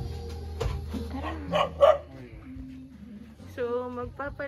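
A dog gives a few short barks and yips amid close talking and household noise, with a higher whine near the end.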